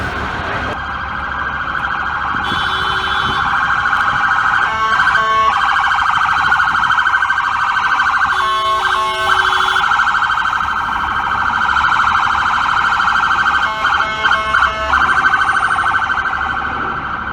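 FDNY fire engines arrive at a high-rise fire on West 59th Street, a loud sustained wailing siren close by with intermittent rapid yelp and air-horn bursts layered over city noise.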